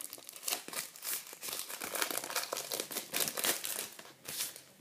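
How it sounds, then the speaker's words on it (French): Plastic wrapping being pulled off an iPhone 4S box, close, busy crinkling and rustling in irregular bursts throughout, with no talking. "Alors, on va enlever cet emballage."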